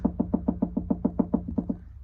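A voice imitates the knocking of a failing wheel hub on a Mazda Miata MX-5, about a dozen close, evenly spaced hollow vocal knocks that quicken slightly before trailing off.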